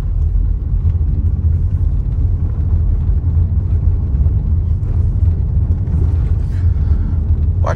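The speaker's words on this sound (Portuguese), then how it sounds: "Eu vou passar agora em paralelepípedo para vocês ouvirem o barulho interno" Cabin of a 2025 Toyota Corolla Cross XRE rolling over cobblestone paving, a steady low road rumble with faint irregular bumps and thumps, continuous and without talk.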